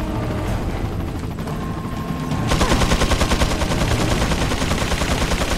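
Sustained, rapid machine gun fire from a helicopter in Resident Evil 4 erupts loud and dense, its clattering bursts intensifying midway and continuing without pause.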